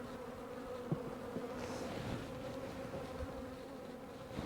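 Honeybees at a hive during a winter treatment make a steady, faint, close buzzing drone with a few brief louder passes.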